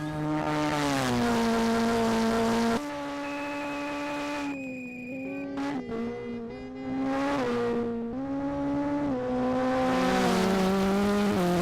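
Peugeot 205 rally car on a gravel stage at the Coffs Harbour Rally, its engine revving loud and close, rising and dropping through gear changes with brief lifts and a moment of tire noise.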